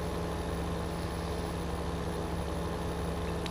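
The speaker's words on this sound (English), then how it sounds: "So all we get to do is listen to the engine." Farm vehicle engine in Farming Simulator 2015 running steadily, harvesting corn, a constant loud droning hum with no breaks and no speech.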